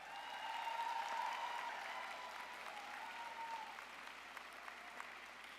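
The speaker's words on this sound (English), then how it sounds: "So give them a round of applause." Graduation crowd applauding at a university social work commencement ceremony, sustained clapping across a large hall, swelling early then holding steady at a moderate, somewhat distant level.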